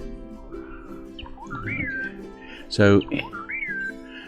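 Jibo robot playing a whistle-like bird sound file, rising and falling warbled whistle notes repeated twice, with someone briefly talking near and a sharp clatter in between.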